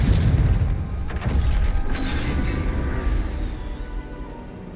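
Confringo blasting spell exploding in the Hogwarts Legacy video game: a loud, booming burst with a crashing, rumbling tail that slowly fades over several seconds, with no talk.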